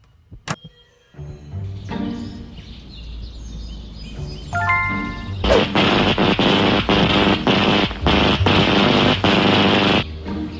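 TV being smashed in the video game Scary Teacher 3D, a burst of crashing, clattering game effects. After a brief early hit and a quieter stretch, a loud run of repeated impacts follows.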